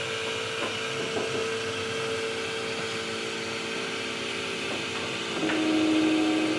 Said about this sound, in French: c'est le processus que l'imprimante a pour débuter son impression